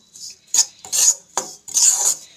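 A spoon scraping and clinking in a pan while roasted gram flour is stirred with ground spices and Kashmiri red chilli, four or five quick close scrapes with brief pauses between them.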